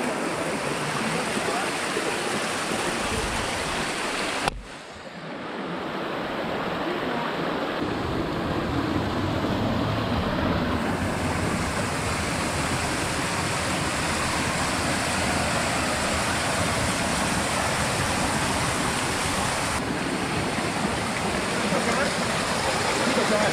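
Waterfall and rushing mountain stream in a rocky Hong Kong ravine: a loud, steady broadband roar of falling water fills the scene, with a brief dip near the start before the rush resumes unbroken.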